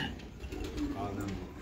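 Johnsiri and golden crossbred pigeons coo softly at a distance, a brief low burbling under faint background murmur and light clatter.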